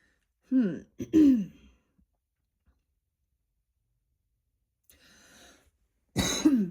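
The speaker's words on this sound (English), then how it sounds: "Let me clear my throat." A person clears their throat twice in quick succession, then a quiet pause, a faint rustle, and another harsh throat-clearing cough at the end.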